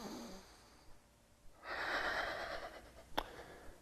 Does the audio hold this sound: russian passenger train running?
no